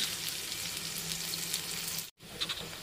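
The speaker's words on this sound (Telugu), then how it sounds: "ఇప్పుడు కొద్దిగా కరివేపాకు కూడా వేసుకొని వేయించుకోవాలి." Onions and curry leaves fry with salt in a pan, giving a steady, close hiss of sizzling oil that cuts out briefly near the end before resuming.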